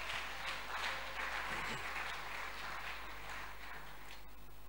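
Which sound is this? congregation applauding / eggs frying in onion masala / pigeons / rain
congregation applauding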